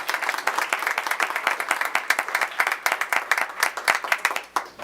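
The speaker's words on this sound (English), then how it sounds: "Okay, let's give them another round of applause." Applause from an audience at a school board meeting, a steady wash of many hands clapping up close for several seconds before tapering off.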